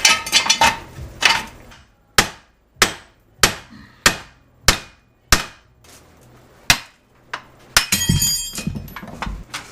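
A hammer pounding on a wheel hub during wheel bearing replacement on a 2007–2017 GMC Acadia, about a dozen loud, sharp metallic blows at an uneven pace, alone with no talk, ending in a cluster of rapid clanks.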